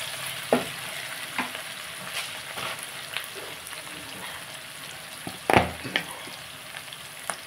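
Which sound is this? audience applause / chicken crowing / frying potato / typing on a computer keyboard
frying potato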